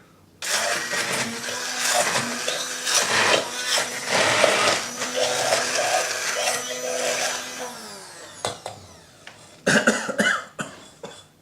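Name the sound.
Bosch Maxo Mix blender blitzing horseradish and chilli sauce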